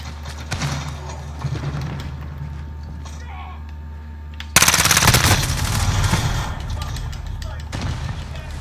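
Gunfire from the video game Call of Duty: Modern Warfare plays on Xbox, with sparse shots at first and then a sudden loud sustained burst of automatic fire. A player's voice is heard faintly underneath.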